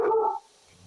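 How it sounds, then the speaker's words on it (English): A pet dog in a house gives a single short bark close by, followed by quiet room tone. "And there goes my dog."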